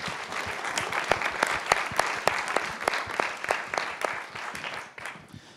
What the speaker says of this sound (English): so a big applause to you,